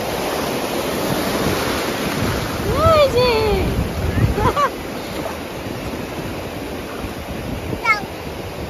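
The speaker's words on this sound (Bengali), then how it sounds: "ঢেউটা আসছে, ঢেউটা আসছে।" Sea waves break and rush up the beach at Digha, a continuous windy roar of surf close by, with a couple of people talking briefly over it.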